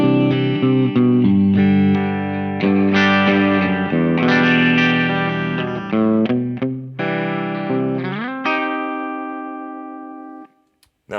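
An electric guitar with P90 pickups on a clean tone plays a lively run of single notes and chords, bright and sustained, before a final chord rings out and fades.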